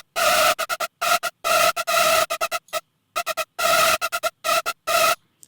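A bright Serum synth chord stabs in a choppy rhythmic pattern, short bursts separated by gaps, its detune turned down so the tone is thinner and more clearly pitched than a wide detuned stack.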